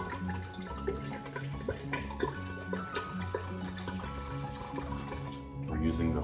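A whole bottle of wine pours into a pot for German Glühwein, its liquid splashing and gurgling continuously at close range over a busy kitchen background.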